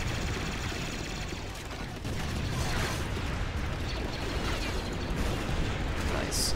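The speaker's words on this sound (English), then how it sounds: "Do you know how insane the recoil would probably be on this minigun if it had some?" Continuous minigun fire in the Star Wars Battlefront 2 video game, a dense unbroken rattling stream of shots that holds steady and loud through the whole stretch with no pauses.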